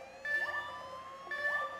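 Police sirens in the heist game Payday 2: two short bursts of overlapping wailing and warbling tones, moderately loud and heard alone.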